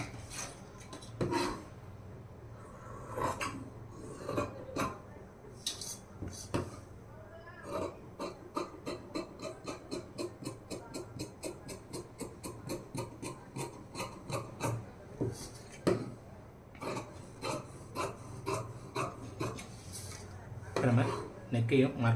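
Handsaw cross-cutting wood along marked lines, a long run of rapid, regular rasping strokes close by, with a few slower strokes at the start and end and occasional voice nearby.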